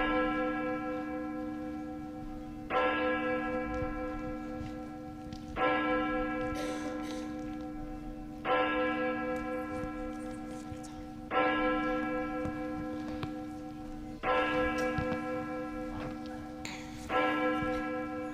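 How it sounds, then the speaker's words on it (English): A church bell at a Congregational church tolls six slow, evenly spaced strokes, about three seconds apart, each ringing out loud and rich before decaying into the next, with no voices. "as we listen now to the tolling of our church bell"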